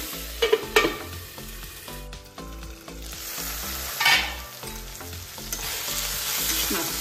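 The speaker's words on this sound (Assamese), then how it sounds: "কম জুইত একদম যেতিয়ালৈকে নিসিজে তেতিয়ালৈকে ঢাকনাখন মাৰি ভাজি থাকিম" Taro stems fry in oil without water over a low flame in a covered pan, giving a continuous close sizzle with occasional stirring swells over soft background music.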